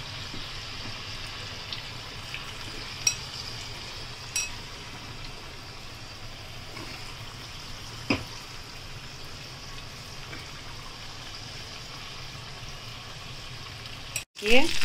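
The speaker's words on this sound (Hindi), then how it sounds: "ये अपना फिश फ्राई हो गया। हाँ मस्त देखा ना, अच्छे से फ्राई करने का" Fish pieces for chilli fish fry in hot oil with a steady, even bubbling hiss, a few faint clicks, and a short clatter at the very end.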